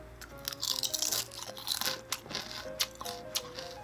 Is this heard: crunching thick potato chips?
yes